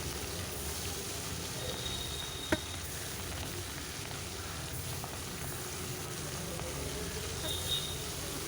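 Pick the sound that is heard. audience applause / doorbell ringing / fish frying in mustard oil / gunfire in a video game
fish frying in mustard oil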